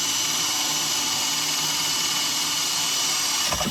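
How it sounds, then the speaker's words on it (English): A power drill with a wood-cutting bit bores through a board held between the knees, a steady, loud, continuous whine close up with no talk. "put the board between my knees, put it in here, slowly start it, and then I'm just going to drill through."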